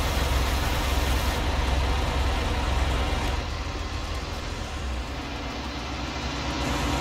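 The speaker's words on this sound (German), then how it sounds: "Ja, der Motor lief noch." A steady, loud engine idles with a constant low rumble and dense mechanical noise throughout, its tone shifting slightly partway through but never stopping.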